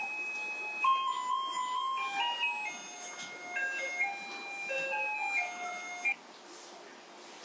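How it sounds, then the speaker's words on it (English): A Taiwanese garbage truck plays its tinny electronic melody, a bright sequence of sustained beeping notes moving up and down, fairly clear against a quiet background before stopping abruptly. "have you ever noticed the singing garbage truck?"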